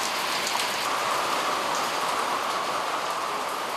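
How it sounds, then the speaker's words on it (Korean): Heavy rain pours down steadily on a remote island, a dense and even hiss that never lets up. No voices are heard over it. "비 때문에 또 발이 묶였습니다"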